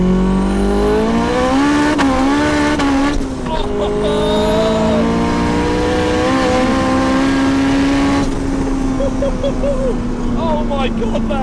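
A 500 bhp turbocharged B16 Honda Civic EF hatch pulls hard through the gears, its loud engine climbing in pitch with gear changes and turbo whistle, heard from inside the car.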